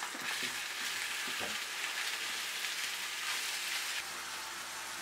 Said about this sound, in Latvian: Un ņemam un liekam iekšā malto gaļu. Un tas viss ir ļoti rūpīgi jāmaisa.